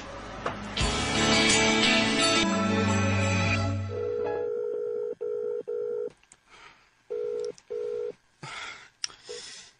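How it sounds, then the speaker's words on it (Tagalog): Cellphone ringing in a radio drama: after a loud musical passage, a repeated electronic ring plays in short, evenly spaced bursts with silent gaps between them, clear and close. "Nagsige na lang bagting ang cellphone."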